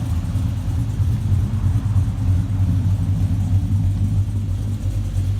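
A 1993 OBS pickup truck with an LS V8 swap and newly fitted electric exhaust cutouts, a loud, steady low rumble of exhaust at close range with no talking.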